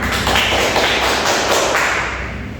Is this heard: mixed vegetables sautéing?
no